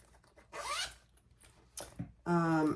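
Zipper on a crossbody wallet's flap pocket pulled in a few quick rasping strokes, a long zip then shorter tugs, close and clear with no talk.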